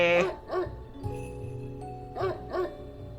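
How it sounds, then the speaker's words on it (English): A dog barking in the horror game Spirit Hunter NG, two pairs of sharp, loud barks separated by a pause, over a low sustained musical drone. "the dog was barking like it lost its mind"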